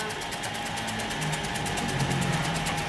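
A semi-manual cassava chip slicing machine runs steadily, its motor humming with a fast, regular mechanical pulsing and rattle, close and continuous with no talk over it.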